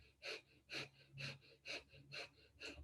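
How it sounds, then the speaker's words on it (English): Rapid nasal panting breaths from a yoga breath of fire exercise, six sharp, evenly spaced exhalations close to the listener, each a short hissing puff. "Breath of fire, panting like a dog through the nose."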